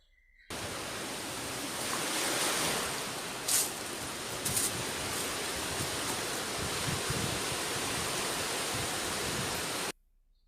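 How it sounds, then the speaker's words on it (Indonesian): Ocean waves roll in a continuous broadband wash, loud and steady from start to finish, with a few faint splashes breaking through and no voices. "Yang kedua, bunyi ombak."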